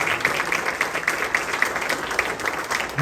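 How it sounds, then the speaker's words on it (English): An audience at a school district Hall of Honor induction ceremony applauds with steady, full clapping that fills the room for several seconds, and no one speaks. "You could give them a round of applause"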